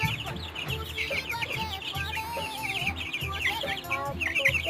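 Desi chickens and their chicks cluck and cheep close by, a busy, continuous mix of low clucks and high peeping chirps with no talk.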